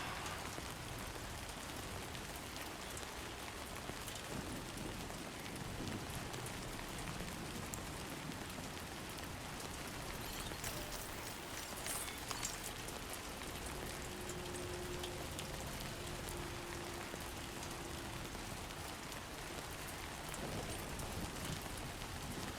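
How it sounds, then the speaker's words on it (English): Steady rain in the video game Death Stranding 2, a dense constant hiss of drops on surfaces, soft and even throughout with no talk. "No end to this rain."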